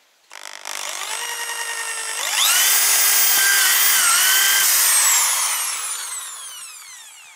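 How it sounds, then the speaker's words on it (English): A power drill bores holes through a rubber tire for a freestanding punching bag, whining steadily and close, then rising in pitch and loudness as it bites in before slowly winding down. "So we can drill another tire."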